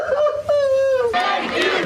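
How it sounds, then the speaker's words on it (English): Crowd in Hostage Square, Tel Aviv, erupting into a short burst of loud cheering and shouting, with raised voices calling out over the noise. "Cheers erupted in Hostage Square in Tel Aviv as crowds gathered to watch coverage of the hostages' return"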